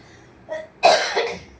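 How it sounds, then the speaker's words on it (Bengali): A person coughs close by: a small cough, then a harsh, louder cough trailing into a second, weaker one. "প্রচন্ড কাশি হয়েছে তো।"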